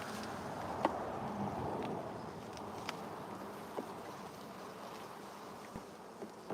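Honey bees buzz steadily at close range while the hive is being inspected, a continuous low drone with a few brief knocks and clicks scattered through it.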